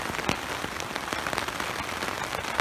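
Heavy rain drums steadily and densely on a poncho shelter during a storm, with scattered louder drops pattering close overhead and no speech.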